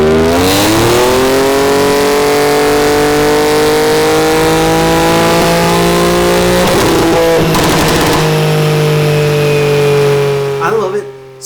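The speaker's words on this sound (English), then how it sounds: "with this tune and our exhaust, this is the loudest and most aggressive pops and bangs I think I've ever heard" A tuned 500HP Nissan Z with an aftermarket exhaust revs loud and close, its engine note climbing and holding before a rapid burst of sharp pops and bangs crackles out as the throttle drops.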